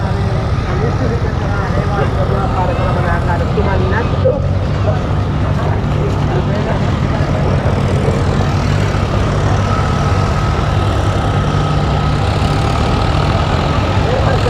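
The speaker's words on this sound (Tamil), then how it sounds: "எட்டு டிராக்டர் வந்து இப்போ உழுது கொண்டு இருக்கிறத பார்க்கக்கூடிய மாதிரி இருக்குது" A tractor engine ploughing a field in Polonnaruwa, Sri Lanka, drones steadily and loudly at close range, a constant low rumble that never lets up.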